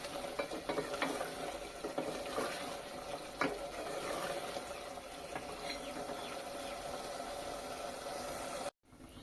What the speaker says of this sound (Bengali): এই পর্যায়ে নাড়াচাড়া করে এটাকে রান্না করে নিতে হবে।